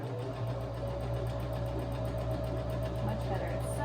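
Sewing machine stitching upcycled cashmere sweater fabric, a steady rapid whirring hum running without pause, close and even throughout.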